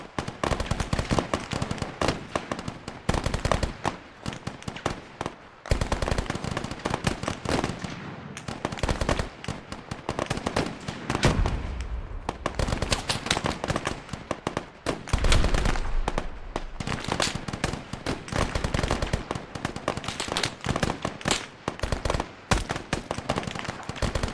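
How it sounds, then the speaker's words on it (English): Machine gun fire in the military video game Arma 3 rattles in dense, sustained bursts with brief pauses, loud and close throughout, with no talking. "I need someone on that machine gun."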